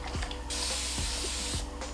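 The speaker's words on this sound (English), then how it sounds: "I'll spray down each section just so that it's damp, not doing too much" A spray bottle mists water over a section of hair during a retwist of two-strand twists for locs, one long steady hiss lasting over a second, close and fairly loud, with faint handling sounds around it.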